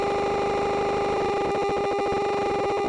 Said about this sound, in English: We got some arcade effects here.